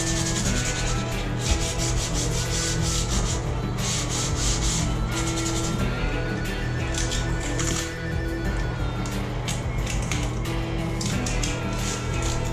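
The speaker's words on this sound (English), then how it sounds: "So now I'm just going to start sanding it. I'm using it about 120 grit just to wipe it up, sand it down just within that area" Sandpaper of 120 grit scuffs a cracked fiberglass bathtub ahead of a resin repair, giving a steady, continuous abrasive rubbing that runs loud and close throughout with no pauses.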